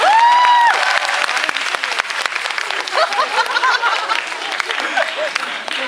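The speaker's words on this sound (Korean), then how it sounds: "큰 박수 한번 부탁드립니다" A theatre audience at a musical's closing curtain call breaks into loud, sustained applause, many hands clapping together with a few scattered laughs, after a brief voice at the start.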